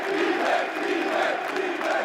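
An esports arena crowd cheers and roars in a steady, loud wash, a sustained blur of many voices with gentle swells, heard alone without any close talking.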